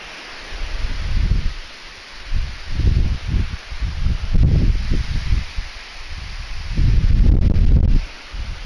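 Strong wind gusts through leaves in repeated loud surges, rustling and buffeting the microphone close up, with brief lulls between the gusts.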